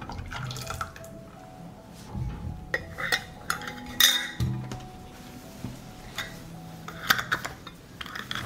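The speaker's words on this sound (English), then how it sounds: "I close the jars with hot and sterilized lids." Sharp glassy clinks and metallic taps ring out irregularly, close by, as hot sterilized metal lids are set and tightened on glass jars in a quiet room.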